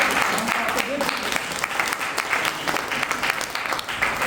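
Audience at a Hindi-language business seminar breaking into sustained applause, a dense steady clapping that fills the whole stretch with crowd noise underneath.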